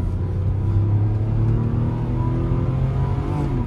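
Car being driven at a car auction, a low steady engine drone with a faint rising tone, heard from inside the vehicle with no talking.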